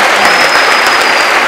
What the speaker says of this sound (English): So I clap for you.